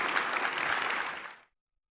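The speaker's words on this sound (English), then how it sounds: "Round of applause for the general," A conference crowd claps for a general, a dense wash of applause that runs evenly at moderate volume and then fades out quickly, leaving silence for the last half second.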